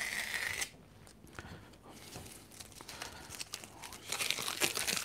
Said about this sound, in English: Now, get this tape off there.